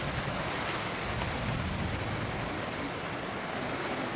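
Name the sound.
strong wind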